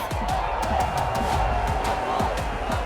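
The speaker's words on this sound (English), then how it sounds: "Under bright stadium lights, the crowd roared with excitement" A stadium crowd roars with excitement under bright lights, a dense, constant cheering swell with scattered sharp whoops and claps spread across it.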